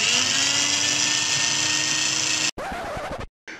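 A loud power tool with a bit spins at its lowest speed setting, a steady high-pitched whine close by that cuts out abruptly, followed by brief bursts of a rougher running sound with gaps of silence.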